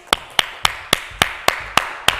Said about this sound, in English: Everybody clap it up for Jil Chrissie